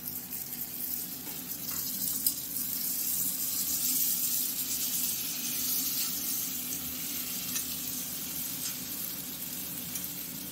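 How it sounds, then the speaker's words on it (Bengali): Chopped tomatoes frying with onions in a pan, a steady, close sizzle and hiss throughout with soft stirring sounds and no talk. "টমেটোটা ভাজা হয়ে গেছে, গলে গেছে।"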